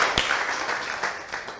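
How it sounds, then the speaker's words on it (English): A room full of people applauding at a 2018 IoT showcase event, a steady wash of clapping that carries on evenly throughout, moderately loud, with no talking over it. "Another round of applause, I think."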